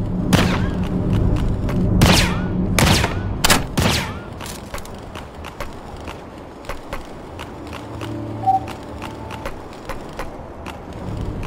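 Gunfire and heavy thuds in the mobile video game PR52: Bladeline, with several loud bursts early on, then sparser sharp shots and mechanical clanks scattered through the rest.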